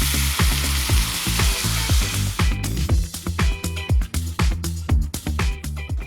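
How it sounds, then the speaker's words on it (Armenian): Onion, fresh chopped green pepper and meat fry loudly in a pan for a lamb khurjin dish, a steady dense sizzle broken by repeated stirring scrapes and clatters, with no voices over it. "Թողնում ենք մի քիչ տապակվի և ավելացնելու ենք միսը։"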